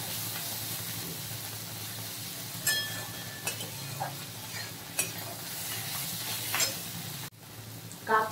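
Spiny gourd (kakrol) slices fry in a pan with a constant hissing sizzle, broken by occasional utensil clinks and stirring scrapes, close and moderately loud with no talking.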